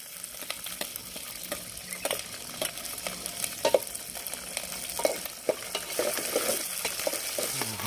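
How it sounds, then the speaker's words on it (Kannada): Green chillies dropped into a sputtering tempering of peanuts, chana dal and urad dal for village-style mango rice, a steady crackling sizzle with sharp pops and occasional stirring clinks, close and uninterrupted. "ಈಗ ಹಸಿಮೆಣಸಿನಕಾಯಿ ಹಾಕ್ತೀನಿ."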